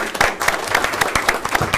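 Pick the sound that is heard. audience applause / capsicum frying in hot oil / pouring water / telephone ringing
audience applause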